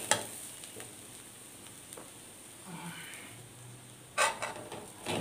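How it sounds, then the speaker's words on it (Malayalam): Onions and curry leaves sauté in a pan over a lowered flame, giving a steady soft sizzle with light stirring scrapes and a louder burst of crackle near the end. "നമുക്ക് കുറച്ച് കറിവേപ്പിനെയും കൂടെ ഇട്ട് കൊടുക്കാം. നമ്മുടെ ഉള്ളി നല്ലോണം വാടി വന്നിട്ടുണ്ട്."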